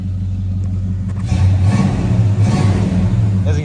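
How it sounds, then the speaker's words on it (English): A 1982 Chevrolet Monte Carlo with dual exhaust idles with a deep, throbbing rumble. The engine picks up into a louder, fuller burble partway through and stays close and prominent. "As you can hear, they put dual exhaust."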